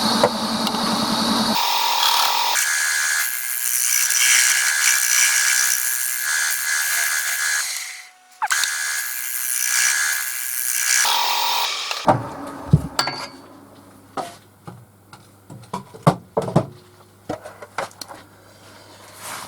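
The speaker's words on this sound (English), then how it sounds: "give it a bit of a scrape first, then a bit of a sand" A pitch pine natural-edge bowl turns on a wood lathe under a scraper and then sandpaper, producing a loud, sustained rough hiss that breaks off abruptly, followed by quieter scattered clicks and taps near a low motor hum.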